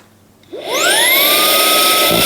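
A Ryobi 18V HP stick vacuum fitted with a micro crevice straw tool spins up from quiet into a loud, steady whine with a rising pitch, then holds a close, even roar with no talking.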